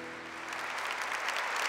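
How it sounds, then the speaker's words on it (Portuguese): A church congregation applauds during a sermon, a short soft wash of many hands clapping that swells slightly and continues evenly. "Vamos aplaudir"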